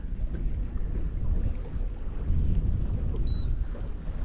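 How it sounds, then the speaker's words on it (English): Wind blowing over a boat on marsh water, a continuous rough low rumble of gusts buffeting the microphone, loud and steady throughout. "And the old wind is picking up."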